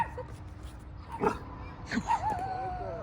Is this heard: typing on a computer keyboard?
no